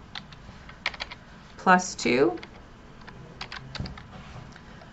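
Computer keyboard keys click in short bursts as an algebra equation is typed in for graphing, with quick clusters of keystrokes and a brief spoken word between them.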